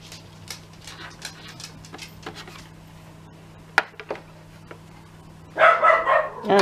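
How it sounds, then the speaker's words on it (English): Daisy the dog barks at a window indoors, a short burst of loud repeated barks near the end following scattered light taps and clicks in an otherwise quiet room with a steady low hum. "She likes to bark at that window, at anyone at all"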